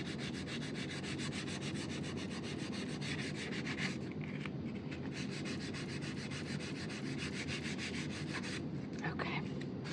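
Continuous close rubbing of sandpaper on a painted wooden piece as the top paint layer is taken off, a dense rasping texture with a couple of brief pauses and faint talk underneath.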